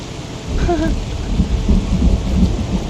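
Rain and rolling thunder from a storm in the zombie survival game Project Zomboid, a steady wash of rainfall with low rumbling thunder building and continuing throughout, fairly loud and without speech.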